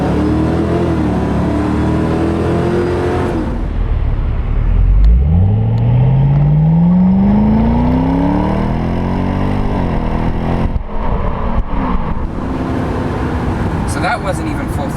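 A 2006 Ford Mustang GT convertible accelerates hard, its V8 exhaust rising steadily in pitch through a gear before easing off, loud and close with road noise, and a person speaks over it.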